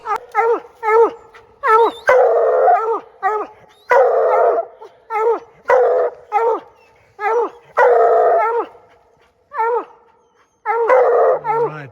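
Coonhounds bay loudly at a treed raccoon at night, repeated bawling howls and chopped barks in irregular bursts with short pauses, close and dominant.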